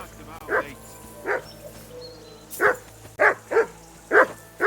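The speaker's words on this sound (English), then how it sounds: "Call off that damn dog before he walks down the last of" In Kingdom Come: Deliverance II, a hungry dog barks in a series of sharp, close woofs, about seven in quick uneven bursts, over quiet game ambience.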